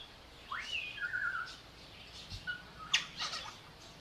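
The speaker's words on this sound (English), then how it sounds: "Listen to those birds." Birds call in a Key West neighborhood at sunset, with a few sharp chirps and short squawky notes spread over several seconds, moderately near above a quiet background hum.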